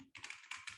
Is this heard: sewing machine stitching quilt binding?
no